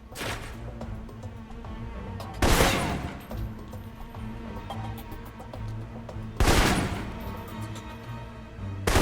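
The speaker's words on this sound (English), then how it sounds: "For long-range encounters, the assault rifle's the key." Bursts of assault rifle fire in the Alpha Protocol video game, with two loud volleys cracking out over a steady low game-music bed and a third burst starting at the very end.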